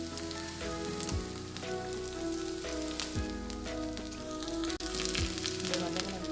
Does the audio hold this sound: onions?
yes